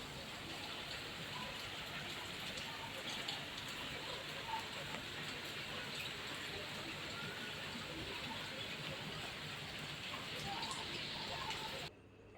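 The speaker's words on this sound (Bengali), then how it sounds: "এই বছর মনে হয় কলকাতাতেই পুরো বৃষ্টিকালে বৃষ্টি, সুন্দর হচ্ছে।" Steady rain falls during a monsoon downpour in Kolkata, a dense even hiss of drops hitting surfaces with no breaks, close and continuous, then cutting off abruptly at the very end.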